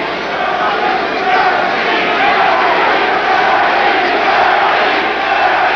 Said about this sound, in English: The crowd chanting, Bernie, Bernie, and Ernie, Ernie, which is the overriding chant.